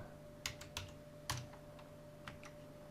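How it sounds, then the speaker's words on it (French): Someone types on a computer keyboard, a handful of sharp clicks in short irregular bursts, close and quiet, over a faint steady hum. "Et maintenant, si je tape la marque, donc là je vais taper Peugeot"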